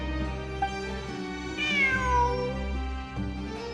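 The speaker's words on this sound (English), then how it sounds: "I'm not hearing things. It really is a cat." A cat meows repeatedly in the Genshin Impact video game, clear drawn-out cries with rising and falling pitch, heard over a steady low game soundtrack drone.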